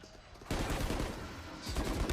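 Rapid bursts of Bulldog assault-rifle fire in a Valorant match, erupting suddenly and loud after a quieter moment and continuing as a dense, sustained volley with faint game ambience around it.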